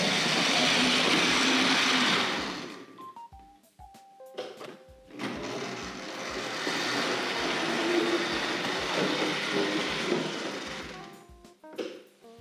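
Hornby Jinty clockwork toy locomotive running on its track, a busy whirring rattle in two bursts separated by a short lull filled with faint clicks and tones.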